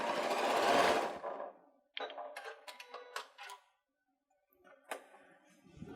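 A sewing machine whirs briefly at speed, then stitches in short, broken bursts of ticking clatter while sewing a back stitch on a fabric bucket, close and alone with no voices.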